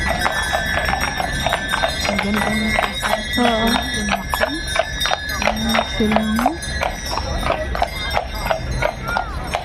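A horse clip-clops steadily along a downtown Ottawa city street, the hoofbeats crisp and close in a regular rhythm, while people chat nearby.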